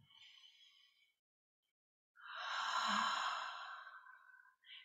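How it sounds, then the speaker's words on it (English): Whispered "haaa" exhalation used as a heart healing breath in a meditation practice: a soft breathy sigh, then a pause, then a longer drawn-out airy exhale, quiet and close. "we're going to use the heart healing sound, which is H-A-A-A as a whisper"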